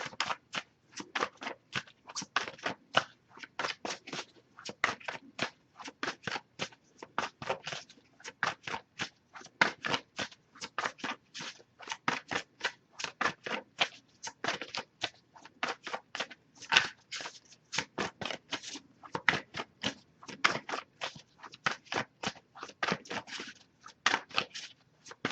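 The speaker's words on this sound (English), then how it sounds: "I'm going to shuffle now and look for some jumpers" Tarot cards riffled and shuffled continuously in quick crisp bursts, close up and fairly quiet, with no talking.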